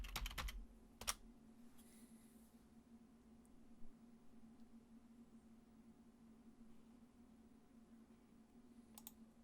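Keyboard typing at a Raspberry Pi setup, a few quick clusters of clicky keystrokes near the start and end over a faint steady electrical hum, quiet and close with long pauses.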